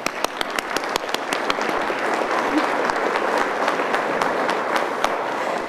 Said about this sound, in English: Please acknowledge those who have made a difference in your life with a round of applause at this time